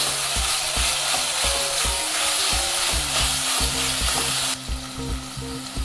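Ginger garlic paste fries in hot oil for carrot pulao, a dense steady sizzle with rhythmic low stirring knocks of a spoon against the pan, loud and close, easing slightly near the end.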